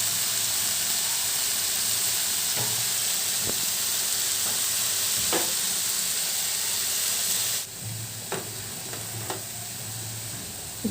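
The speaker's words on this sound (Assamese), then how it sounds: "আলুখিনি অলপ সিজাৰ পিছতে এনেদৰে তেল বিৰিঙি দিছে নহয়" Potatoes fry in hot oil on a kitchen stove, giving a steady loud sizzle with occasional sputtering pops and spoon scrapes, the hiss easing slightly near the end.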